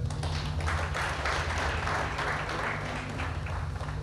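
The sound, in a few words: audience clapping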